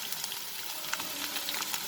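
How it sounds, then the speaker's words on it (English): Brinjal and other vegetables frying in heated oil for aloo baingan badi ki sabzi, a constant close hiss and sizzle with small crackling pops scattered throughout. "Frying the vegetables like this, friends, it will take some time"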